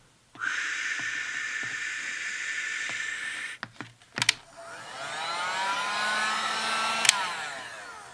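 A heat gun blows over watercolor paper, a loud steady whooshing roar that cuts off around three seconds, followed by a few clicks and knocks, then a second airy blowing hiss that rises and wavers as it sweeps across.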